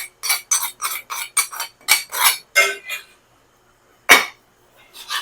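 A spoon scraping and clinking against a large metal kadai while herbal hair-dye powder paste is mixed, a quick run of repeated metallic taps and scrapes, then a pause and a single louder clank, close and clear.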